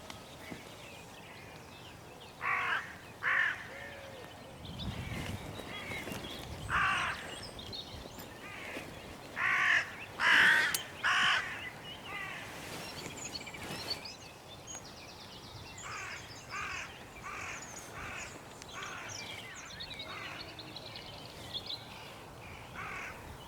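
Crows cawing in repeated short bursts, some loud and close and others fainter, as they dive-bomb decoys outdoors, with steady background hiss between calls.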